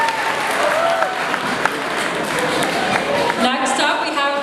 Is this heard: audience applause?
yes